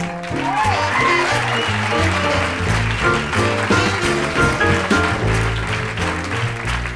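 Concert audience applauding a pianist at a show, a steady wash of clapping mixed with loud band music carrying underneath throughout.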